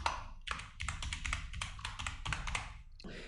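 Quick, close taps and clicks on a computer keyboard, with a cluster of several keypresses including the F2 key in an uneven rhythm and no talking.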